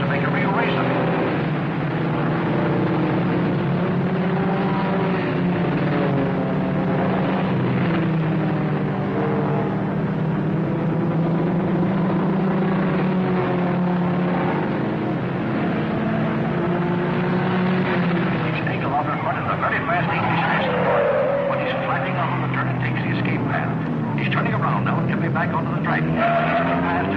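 Race cars compete on a track, including a hot number 17C car pushing the leader, a continuous roar of engines under an excited commentator's voice throughout.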